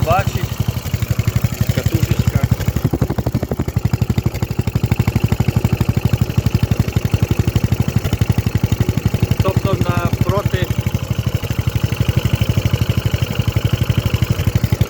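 A small petrol generator engine fitted with CDI ignition runs steadily after starting, a loud, close, rhythmic thumping idle with a brief rev partway through and someone speaking over it at moments.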